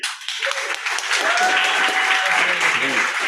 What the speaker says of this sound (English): Applause, applause, applause, applause.